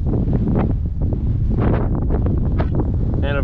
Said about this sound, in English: And of course, the wind started whipping.